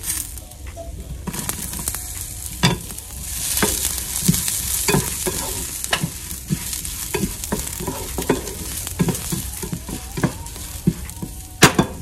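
Ginger, small shallots and curry leaves sauté in a pan for a fish curry, a steady sizzle broken by frequent scraping stir strokes and clicks of the spatula, close and alone without talk.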